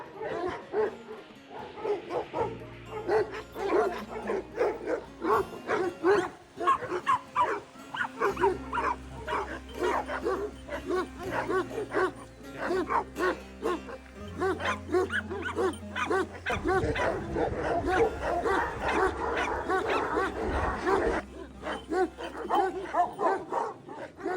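Kangal dogs at a dog farm in Sivas, Turkey, bark, yip and whimper in a continuous, overlapping chorus, some near and some farther off, over a low steady tonal backdrop.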